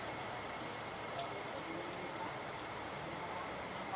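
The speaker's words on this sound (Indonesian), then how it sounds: "Hujan lur." Heavy morning rain in South Jakarta, falling steadily as an even, dense hiss of drops on surfaces, continuous and fairly close with no voices.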